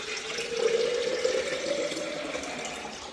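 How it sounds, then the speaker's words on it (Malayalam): Buttermilk is poured into a bottle for storing in the fridge, making a close, steady liquid gurgle with a faint rising tone as the bottle fills, with no talking. "ബാക്കിയുള്ളത് ഫ്രിഡ്ജിൽ വയ്ക്കാനാണ് ഈ കുപ്പിയിലാക്കുന്നത്"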